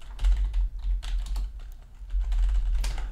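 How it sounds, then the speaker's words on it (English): Commands are typed on a computer keyboard close up, with quick bursts of clicking keystrokes and brief pauses, no talk. "Today I got to type in some commands here, sorry."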